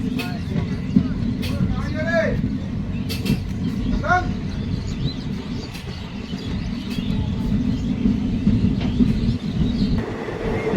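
The Kanchankanya Express from Alipurduar to Sealdah running on the rails past tea gardens: a continuous loud rumble with rhythmic clatter and sharp clicks, and people talking over it.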